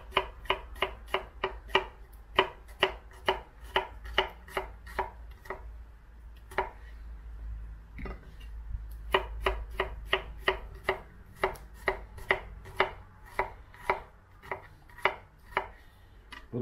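Onion chopped with a sharp kitchen knife on a board, crisp regular knocks in quick runs with a brief pause midway, close and clear with no voices.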